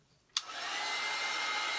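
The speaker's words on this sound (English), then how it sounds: "I'm using a heat tool because I don't think it's as loud" A heat tool switches on with a sharp click and then blows a steady, loud rushing hiss of hot air for drying shimmer craft paint, running alone and unbroken.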